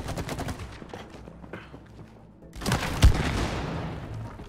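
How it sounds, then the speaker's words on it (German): A big explosion in the co-op video game It Takes Two bursts out among battle noise and gunfire, with a sharp loud peak partway through and a lingering rumble. "Große Explosion."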